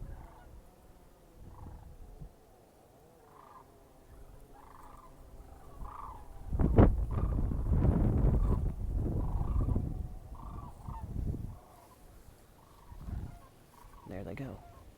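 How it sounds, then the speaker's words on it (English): Repeated honking calls of geese flying overhead pass by, a loud burst of flapping and honking in the middle, trailing off into scattered calls, heard on a hike in February. "Ooh, geese."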